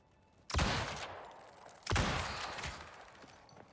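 Gunfire rings out against a scorpion in the survival game Icarus: two loud, close bursts of shots roughly a second and a half apart, each trailing off into a rumbling decay.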